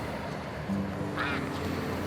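A duck quacks once, a short nasal call rising briefly over a steady background hum.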